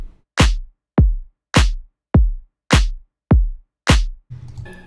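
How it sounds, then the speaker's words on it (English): Sampled kick drum and snare alternating in a steady four-on-the-floor style pattern for a track, eight punchy hits evenly spaced, loud and close, ending with a short burst of noisy texture. "So the kick and snare together sound like this."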